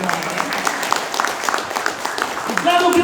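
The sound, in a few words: audience applause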